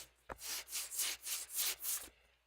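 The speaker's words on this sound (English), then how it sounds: "Just doing a light sanding." Light sanding of a small N scale model train part, with a series of soft, quick rubbing strokes close by, each a short hissy scrape in a steady back-and-forth rhythm, heard alone.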